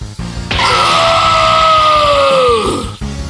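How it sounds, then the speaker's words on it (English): Blood-curdling scream of a man in pain, voiced for the anime fighter Vegito as a destructive energy blast hits him: one loud, sustained, strained cry that bends downward in pitch near the end, with muffled thuds before and after. "A blood-curdling scream is heard by none other than Vegito"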